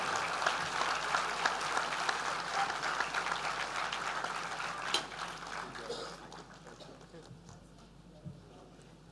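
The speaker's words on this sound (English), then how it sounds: "With a big round of applause." Audience applause at the close of an acting masterclass in a hall, a faint, sustained patter of clapping that thins out and fades toward the end, with soft murmuring beneath.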